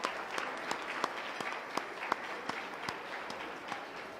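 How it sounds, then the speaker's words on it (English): Audience applause at a leadership gala for an annual conference, heard as a steady wash of clapping with sharper individual claps standing out, moderately distant and fairly quiet throughout. "I want to thank, let's give a big round of applause to our MC from Univision, Tsi-tsi-ki."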